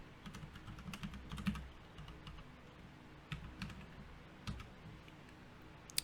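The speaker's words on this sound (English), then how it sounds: "I'm going to have to type in the password that was provided." Bursts of keystrokes on a computer keyboard as a Wi-Fi password is entered, soft close taps in short clusters with pauses between, no talking.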